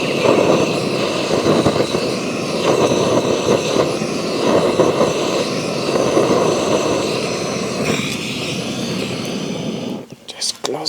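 A handheld butane gas torch burns with a steady, loud rushing hiss that holds for about ten seconds before cutting off, with a voice speaking over it at times.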